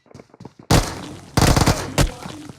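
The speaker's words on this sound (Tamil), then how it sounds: "வாங்க யாரோ அடிக்கிறாங்க போலாம்." Gunfire from a mobile shooting video game: three loud, sharp bursts of rapid shots, each briefly ringing out, after some quieter clicks and soft sounds at the start.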